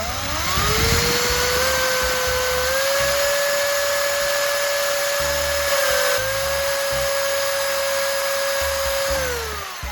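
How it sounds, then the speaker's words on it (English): A spinning grinding stone presses against rusty pliers, giving a loud, steady high-pitched whine that holds nearly constant for about ten seconds, dipping slightly in pitch under load and winding down at the end. "I'll gently press the spinning stone against the rusty surface of pliers, focusing on the areas with the most buildup."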